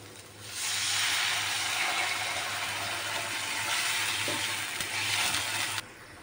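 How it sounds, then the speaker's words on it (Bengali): Water pours into a pan of sizzling, fried spice masala, setting off a loud, steady, close hiss that lasts about five seconds before cutting off. "এবার আমি এখানে পরিমাণ মতো জল দিয়ে দেব"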